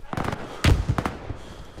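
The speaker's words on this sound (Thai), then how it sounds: "กระสุนยิงมามีคนยิงมา" Gunfire from a Roblox shooter game: several sharp, percussive shots in a short burst, the loudest one near the middle, with a voice talking over them.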